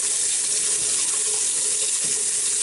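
Running tap water pours steadily into a sink while someone rinses their face, a constant close splashing hiss with no pauses and no talking.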